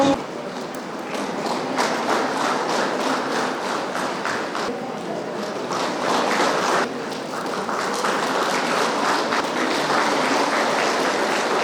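Sustained applause from an audience at an International Labour Day celebration in Pasighat, a dense, even patter of many hands that holds steady and loud throughout, with faint voices mixed in.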